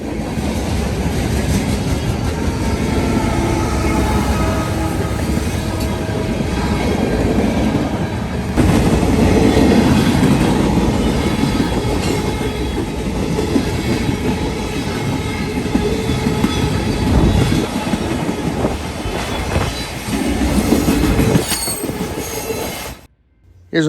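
A BNSF ET44C4 working as mid-train distributed power on a freight train rolls past with a steady, loud rumble and roar, wheels squealing and clattering for about twenty seconds before the sound cuts off abruptly.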